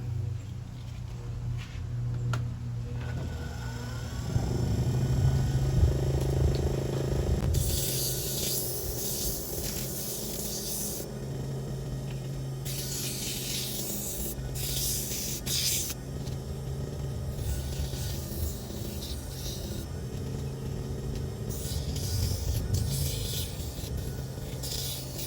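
Sandpaper rubs back and forth across a surface, working through 180, 220, 320 and 400 grit, in repeated raspy bursts of scratchy hiss separated by short pauses, close and moderately loud.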